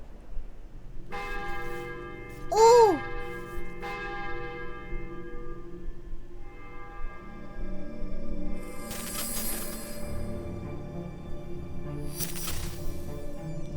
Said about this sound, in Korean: 거대한 종이 울린다.